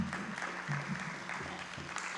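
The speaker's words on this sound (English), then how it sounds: "deserves a round of applause for everything that he did" Applause at a school board work session, a faint, steady patter of clapping from a smallish audience heard at a distance, continuing without break.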